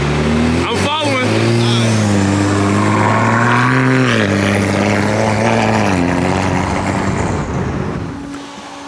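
A BMW 335i fitted with an Eisenmann exhaust rumbles loudly and steadily close by, its deep engine note rising and falling with throttle blips, while people talk over it.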